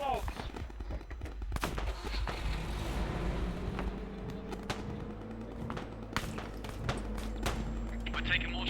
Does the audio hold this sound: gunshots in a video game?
yes